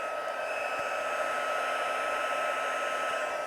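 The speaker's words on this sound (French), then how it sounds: "le pistolet chauffant encore" A heat gun blows continuously at close range, a loud steady airy roar with a constant motor whine and no pauses.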